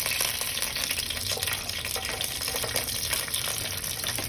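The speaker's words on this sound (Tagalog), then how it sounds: "Saute the garlic." Garlic sautéing in a pan for ground pork with mushrooms, a steady close sizzle and crackle with a bit of stirring, continuous and fairly loud with no talk.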